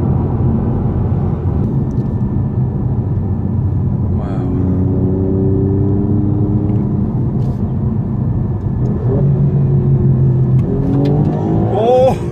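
Inside a Tesla car as it accelerates, a low, steady drive hum is joined by rising whines that swell in bursts, with excited voices and exclamations over it.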